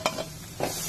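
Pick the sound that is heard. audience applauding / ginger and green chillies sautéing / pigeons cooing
ginger and green chillies sautéing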